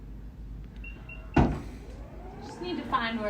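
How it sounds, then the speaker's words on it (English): Power tailgate on a 2022 Mitsubishi Outlander SEL opening after a kick under the rear bumper: a sharp thump, then a motorized whir and latch release, with people talking nearby. "try to kick under the bumper to see if you can get that back door open"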